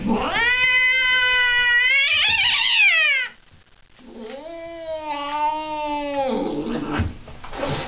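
An angry cat at the veterinarian yowls in long, loud, wavering caterwauls close up, pausing briefly between drawn-out cries with low growling underneath.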